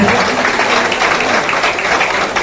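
Loud, steady applause from a crowd at a BJP political rally, dense clapping filling the whole moment without pause.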